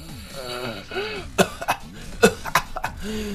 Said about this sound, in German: Okay, der Husten ist weg.